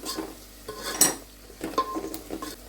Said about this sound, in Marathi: थोडीशी मेथीची भाजी स्वच्छ भाजी धुवून साफ करून घेतली आहे तेलामध्ये परतून घ्या